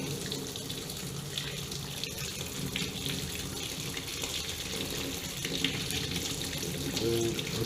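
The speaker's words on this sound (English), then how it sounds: "I ran the water." Water runs steadily from a tap during a water heater check, a constant hiss and splash that holds even throughout with no talking.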